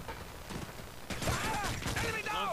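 Gunfire in a Modern Warfare 3 hardcore match on the Village map: bursts of shots and clattering weapon mechanics, loud and close, with game effects sweeping across.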